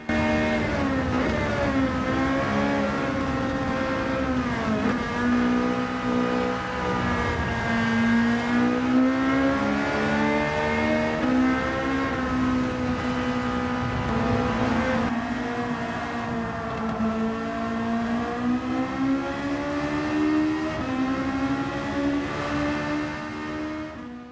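A naturally aspirated 331-horsepower engine in Gran Turismo 7 revs loudly and alone, its pitch climbing and falling through repeated sweeps and gear changes over about 24 seconds.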